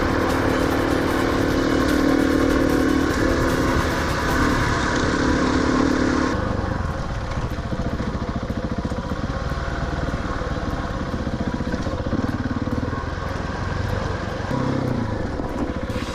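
A KTM 690 motorcycle rides along an Australian road, its single-cylinder engine droning steadily with road and wind roar, loud and continuous, the tone shifting slightly partway through.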